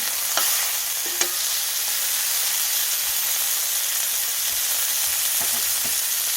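Burger patties frying in a pan just after being flipped, giving a loud, continuous sizzle and hiss with a few faint clicks of a spatula against the pan.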